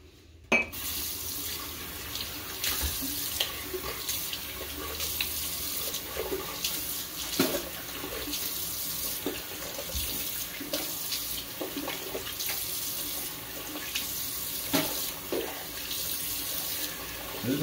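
Tap water running steadily into a sink while rinsing off after a wet shave, a close continuous splashing flow with occasional clinks and hand splashes throughout.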